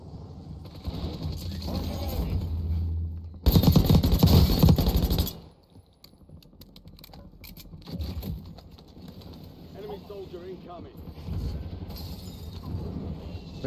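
Gunfire in Call of Duty Black Ops 6 Warzone Resurgence, a loud burst of rapid shots around the middle, with scattered quieter pops and game sounds before and after, and voices talking at times.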